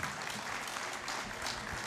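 A large audience applauds to welcome the president of the All India Memon Jamat at a community gathering, a dense, even wash of clapping sustained throughout at moderate distance.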